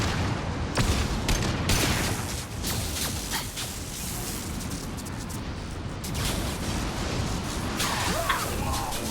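Mass Effect 2 combat with a flashbang grenade and gunfire: loud, continuous rapid shooting with sharp cracks and impacts, and a brief dip before the fire resumes.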